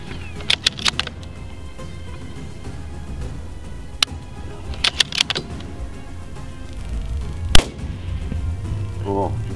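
Rifle shots at a prairie dog on a Wyoming prairie ring out as several sharp cracks, with one loud report near the end, over low wind rumble and faint voices.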